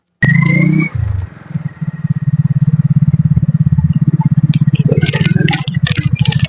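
A motorcycle engine kicks to life after a brief high whine and clunk, then settles into a loud, close, rapid putter that stays even, with rattling and clatter joining toward the end.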